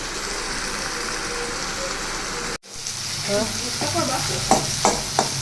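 Leafy greens drop into a hot pan beside a fish curry, setting off a steady close sizzle, then a brief cut and scattered scraping stir strokes with sharper clinks near the end.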